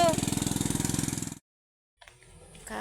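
A motorcycle engine chugs in a steady rapid pulse on a rural mountain farm, loud and close for over a second, then cuts to silence before faint rumbling and knocks return.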